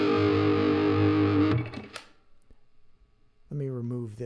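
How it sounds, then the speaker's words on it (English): An electric guitar plays through a reverb channel and a dry channel: a sustained ringing chord decays away, then after a quiet gap a fresh chord is struck, loud and close. "I just have a guitar channel that has the reverb and one that's dry"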